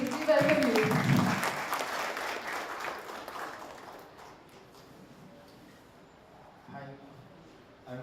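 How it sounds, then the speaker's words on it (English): Audience applause welcoming a speaker to the stage at a conference on AI in Tatarstan, loudest at the start with a voice over it, then thinning and fading into quiet room noise. "Sir, I request you to please share your views and with a huge round of applause."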